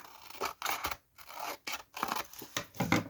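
Scissors cut paper for a stuffed envelope craft project. About eight close, quiet, crisp snips come in an irregular rhythm with short pauses, and nobody speaks.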